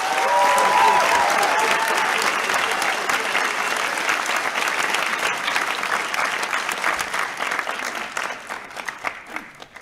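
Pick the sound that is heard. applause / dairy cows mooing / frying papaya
applause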